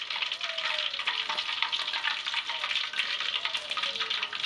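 Coriander-marinated chicken pieces frying in hot oil in a wok in a village kitchen, a dense, steady sizzle and crackle running throughout, close and fairly loud, with no talking.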